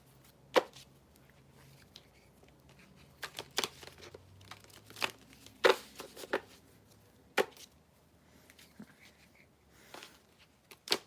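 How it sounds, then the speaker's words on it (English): Tarot cards being shuffled by hand, giving sparse, irregular papery riffles and soft slaps, with a few sharper flicks spread over several seconds in a quiet room. "In the meantime, let me shuffle the cards."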